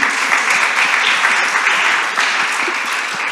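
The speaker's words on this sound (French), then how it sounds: "Merci beaucoup, on l'applaudit" A conference audience at a women's health forum applauding, a loud, continuous crackle of many hands clapping close by, steady throughout with no pauses.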